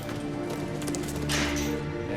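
Horses moving nearby, a steady patter of hoof clip-clops over a continuous low background, with a brief louder swell in the middle.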